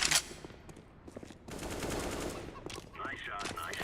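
Rapid gunfire in Counter-Strike: Global Offensive, a sharp opening burst followed by sustained rattling fire and scattered shots, mixed with game sounds and faint speech.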